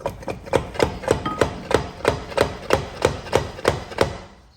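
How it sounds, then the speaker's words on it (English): Hammer tapping a CV axle on a Mercedes-Benz GL: about a dozen sharp metallic blows, evenly spaced at roughly three per second, close and fairly loud, with no one talking. "I'm gonna grab my hammer and I'm just gonna tap it from here."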